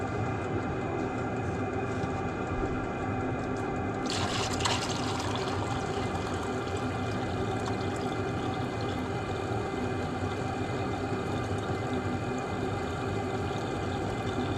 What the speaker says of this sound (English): Hot water delivery.